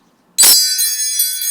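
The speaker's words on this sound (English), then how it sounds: "Let's call in spirit with some wind chime time." Wind chimes struck once with a bright clang, then shimmering metallic tones ringing on and slowly fading, loud and close.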